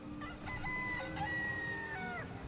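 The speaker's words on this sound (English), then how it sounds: "And a cockerel, apparently." In Skyrim, a rooster crows once in a long, drawn-out cock-a-doodle-doo, clear and moderately close over a low background hum.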